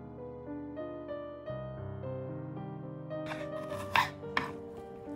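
Bitter gourd (karela) is chopped on a board, a few sharp knife strikes standing out near the end over steady melodic background music.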